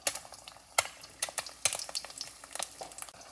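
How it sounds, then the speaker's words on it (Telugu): Four eggs fry in a pan over burned garlic rice, left unstirred to crisp. A soft, quiet sizzle runs underneath irregular sharp clicks and scrapes of a utensil against the pan. "ఇప్పుడు నేను దీన్ని కొంచెం సేపు మిక్స్ చేయకుండా ఇలా ఉంచుతాను, కొంచెం మంచిగా ఫ్రై అయ్యేలాగా"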